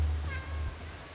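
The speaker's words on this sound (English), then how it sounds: "I hope you guys like hearing the sounds of meowing, because that's what you're going to hear." A cat meows once, close and clear, a short tonal cry inside the video game Stray, with no talking.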